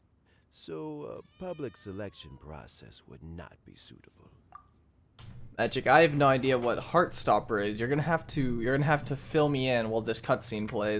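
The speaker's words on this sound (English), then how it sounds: "that was a cat. There's a cat somewhere in the cutscene." An offscreen cat meows during a Genshin Impact cutscene in Yelan's story quest, with short mewing calls mixed into the game's voice acting while someone talks over it at close range.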